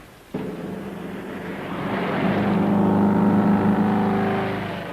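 An Africar, a vehicle built for rough African roads, sets off at speed with newly strengthened steering: a sudden engine onset swells into a steady, loud droning roar that builds and holds before easing slightly, with no voices.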